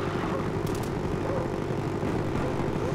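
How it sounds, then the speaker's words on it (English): A friendly spy plane drones overhead in a first-person shooter, a steady engine roar holding at constant loudness for the whole stretch with no gaps or speech. "Friendly spy plane inbound."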